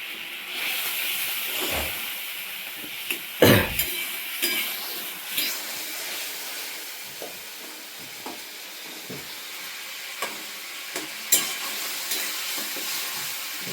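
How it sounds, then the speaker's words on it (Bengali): Young green jackfruit and spices sautéed in a pan, a soft steady sizzle close by broken by sharp scraping stirs and clacks of a spatula, loudest early on, no talking. "এখন খুব ভালো করে আগে কষিয়ে নিচ্ছি"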